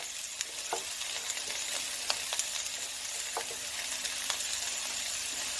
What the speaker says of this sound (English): So the idea is to fry off the onion and to cook up the starchy vegetables first